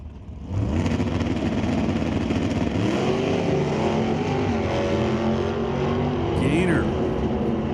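A 2008 Chevrolet Cobalt drag racing car launching down the strip, its engine roaring loud and steady for several seconds with a rising pitch as it accelerates, heard alone without voices.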